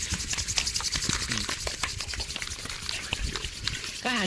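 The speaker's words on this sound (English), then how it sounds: "Put your hands together, rub them profusely and violently." Hands rub together in the VR game VRTravelers, making a dense, continuous, close-up scraping friction with rapid back-and-forth strokes and no voice over it.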